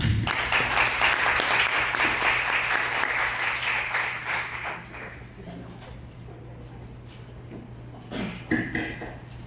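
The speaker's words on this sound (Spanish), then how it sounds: "recibimos al licenciado con un fuerte aplauso" Loud, sustained applause from a crowd fills the room, fading gradually toward the end with a few scattered claps remaining.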